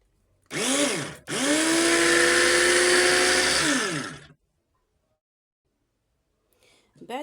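Electric blender whirring through soup ingredients for freekeh vegetable soup, a loud steady motor whine that starts, stops briefly, then runs for about three seconds before winding down into silence.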